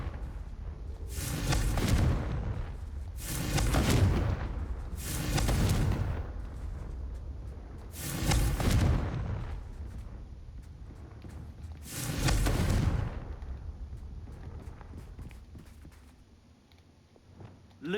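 Confringo fire spell explosions in the video game Hogwarts Legacy: five heavy booming blasts in a slow irregular series, each swelling and fading over about a second, loud against a low rumbling background.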